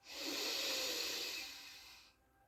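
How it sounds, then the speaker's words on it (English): A single slow, deep breath drawn in through the nose, a soft airy hiss that swells, holds steady for about two seconds and then fades, close and alone. "breathing in through the nose"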